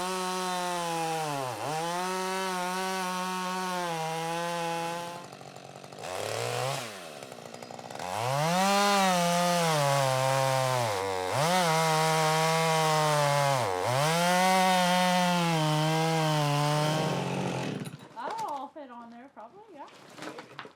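Chainsaw cutting a section out of a log at a sawmill, engine running loud and close with rising and falling revs through repeated cuts, dipping briefly between passes and sputtering near the end.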